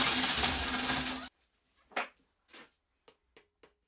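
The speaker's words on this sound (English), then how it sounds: "Now it gets a bit more complicated or demanding as we continue with the Forstner bits." DeWalt DCD999 cordless hammer drill boring into wood with a 30mm Forstner bit: a loud, steady grinding whine for about a second, then abrupt quiet broken by a few short knocks and scrapes.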